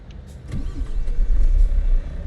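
A Volvo VNL truck with 400 horsepower and a 10-speed Eaton Fuller transmission cold-starts at a Kansas City rest stop in American Truck Simulator: a brief crank, then a deep engine rumble settling into a steady, low idle.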